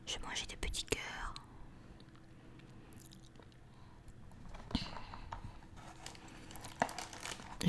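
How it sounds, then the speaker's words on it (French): Crinkly wrapper of small heart-shaped chocolate sweets, similar to Maltesers, handled gently close to the microphone in short rustles, with soft chewing and whispering around them. "J'essaie pas de faire trop de bruit avec l'emballage"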